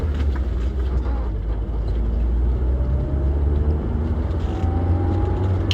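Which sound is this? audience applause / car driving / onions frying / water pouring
car driving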